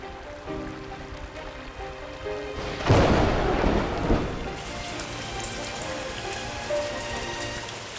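Heavy tropical downpour during the Amazon rainy season, a dense hiss of rain on surfaces, broken by a loud, close thunderclap that rumbles for about a second before the steady rain returns, with no talking.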